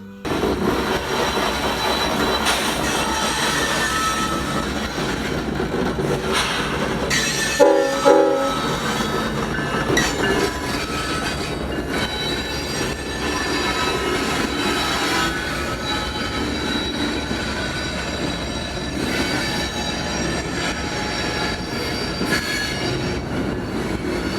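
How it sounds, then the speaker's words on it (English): A Union Pacific intermodal freight train rolls past close by in Niland, California, loud and continuous, with rumbling wagons, squealing wheels and horn blasts throughout. "this being a Union Pacific intermodal going on to the Calexico subdivision, with UP 7794 leading."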